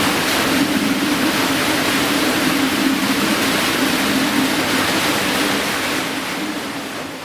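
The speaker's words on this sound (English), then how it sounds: "Starting in 1926, it's this big, giant water wheel, still available for people to see." A giant historic water wheel dating from 1926 powers an old sawmill, giving a steady, loud rushing of falling water with a broad churning roar and faint low hum, continuous throughout.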